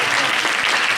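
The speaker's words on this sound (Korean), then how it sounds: "저희 앞에 패널로 나온 새 커플에 대해서 박수로 한번 다시 한번 모셔볼까요?" A church youth group audience claps for a couple who came up as panel guests, giving a brief burst of loud, dense applause that fills the room.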